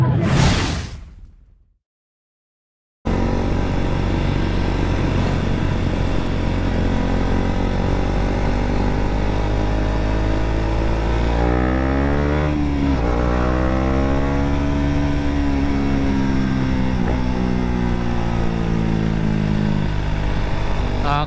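A motorcycle rides through San Carlos City, Pangasinan, at night, its engine droning loud and close after a brief fade and a moment of silence, with pitch sweeping up and down as it revs and shifts.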